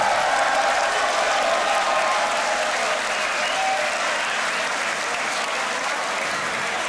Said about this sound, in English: make some noise, give it up for that battle